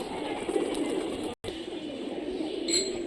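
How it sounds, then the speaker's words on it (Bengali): Local pigeons in Rajshahi coo with a continuous low murmur beneath dense, steady background noise, broken briefly by a short silence. "খুবই সুন্দর কবুতর।"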